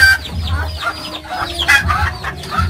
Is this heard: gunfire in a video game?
no